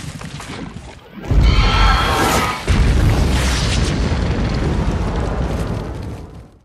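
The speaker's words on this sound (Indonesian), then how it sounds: "sebuah ledakan pun menewaskan sang ratu" A loud, deep explosion in a movie scene erupts and rolls into a sustained, heavy roaring rumble that slowly fades away, with no voices present.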